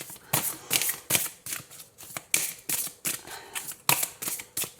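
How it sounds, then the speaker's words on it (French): Oracle cards are shuffled and drawn from a deck, a rapid series of crisp riffling flicks in a regular rhythm, close and fairly soft, with no talking. "Alors, on prend une carte."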